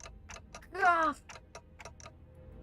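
Rapid clock-like ticking from the video game Limbus Company, sharp evenly spaced clicks that quicken over a couple of seconds, with a brief loud exclamation partway through.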